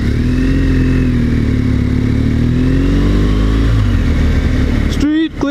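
A motorcycle engine drones loudly and close, with the pitch falling through a downshift before a sharp blip of revving near the end, as if heard from a helmet-mounted camera.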